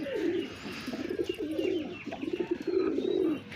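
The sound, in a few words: pigeons cooing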